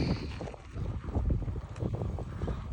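Wind gusts and buffets the microphone on an open hilltop wind farm in Idukki, rising and falling steadily with no other clear sounds.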